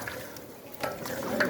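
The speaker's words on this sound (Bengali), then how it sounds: "আবার মাংসটা নাড়া দিয়ে দিচ্ছে বুলবুল ভাই" Beef frying in a brass pot gets stirred, a soft scraping of the spoon over a quiet sizzle, faint and brief, with light clinks near the end.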